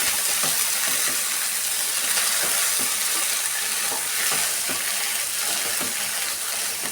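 Vegetables frying in a pan are stirred continuously, giving a dense steady sizzle with repeated scraping and tapping strokes of the spoon, close and fairly loud, with no voices.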